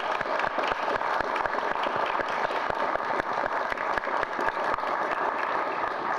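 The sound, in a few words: applause at a press conference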